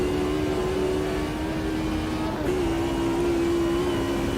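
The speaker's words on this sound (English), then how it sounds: "Naturally aspirated, obviously, this Mercedes makes a great noise." A steady, droning naturally aspirated Mercedes DTM race car engine in the Automobilista 2 racing game holds a constant high tone, with a slight pitch shift midway, loud and continuous with no voices.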